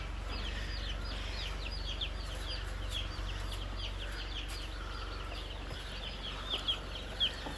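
Meat chickens cluck and chirp over a steady mechanical hum inside a brooder shed on an Australian homestead, the birds scurrying and flapping with a few louder wingbeat bursts near the end.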